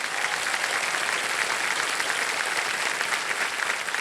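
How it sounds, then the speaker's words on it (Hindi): A studio audience on the quiz show KBC applauds in dense, continuous clapping that stays loud and even throughout, with no talking over it. "तालियां बज जाए।"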